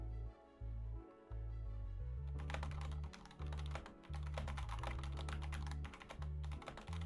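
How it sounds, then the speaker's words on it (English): Rapid, furious typing on a computer keyboard clatters in dense bursts of key clicks, close and continuous with only brief pauses, no talking. "Well, I hear typing."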